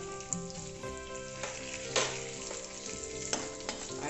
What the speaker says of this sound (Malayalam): എള്ളൊന്ന് പൊട്ടുന്നിടം വരെ